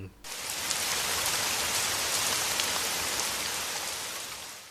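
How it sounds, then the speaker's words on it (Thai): Heavy rain pouring down steadily, a loud, dense hiss of drops hitting surfaces that starts abruptly and continues without pause. "เสียงฝนที่ตกกระหน่ำลงมาดังชัดเจน"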